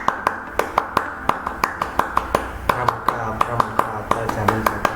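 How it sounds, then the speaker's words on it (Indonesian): Scouts clap the Pramuka pattern in two rounds of sharp, evenly rhythmic claps, clear and fairly close, with some voices underneath. "Dua kali tepuk pramuka."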